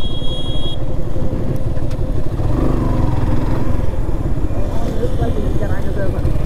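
A 2020 Suzuki Gixxer SF motorcycle is ridden, its engine droning steadily loud with wind rumble throughout, while the rider talks over the noise.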